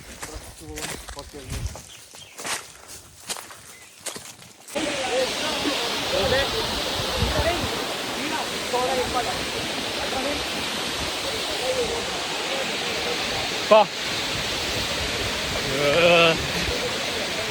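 A few seconds of quieter outdoor sound give way to the loud, steady roar of a nearby waterfall in Chikmagalur, Karnataka, rushing on without letup.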